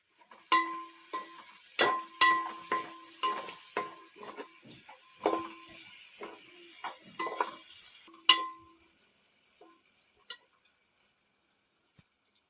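Onions, curry leaves, carrot and green chillies stirred in a pan for prawn fried rice: a steady run of spatula scrapes and clinks against the metal, roughly one per second, over a faint sizzle, then slowing to a few sparse taps.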